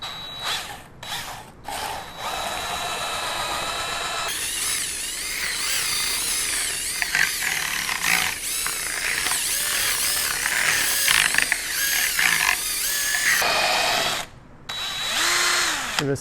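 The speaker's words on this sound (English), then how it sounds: "And we'll just take this drill in here like this." Power drill with a mixing paddle spinning to fling drywall mud off its blade during a tape installation job, a loud, steady whirring motor with ratcheting texture that runs for long stretches and briefly cuts out, with no talking.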